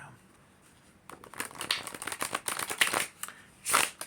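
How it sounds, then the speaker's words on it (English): Tarot cards are riffled and snapped together in quick bursts, a crisp papery flutter that builds and ends in a final sharp shuffle. "listen to that snap, that shuffle"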